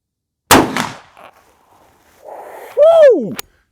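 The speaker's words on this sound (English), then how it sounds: "500 Magnum, first time being fired." A single loud, sharp shot from a Big Horn Spike Driver Takedown in .500 Magnum, first time fired, booming at 50-yard accuracy testing with a quick echo tail, followed after a pause by an excited whooping voice.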